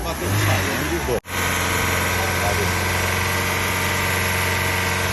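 A VW Polo 1.6 8V engine with a suspected lifter or valvetrain fault and heavy sludge idles loudly and steadily close by, holding a continuous drone with a faint ticking noise; the sound cuts out for an instant near the start.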